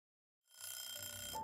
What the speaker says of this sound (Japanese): なんか電話鳴ってる。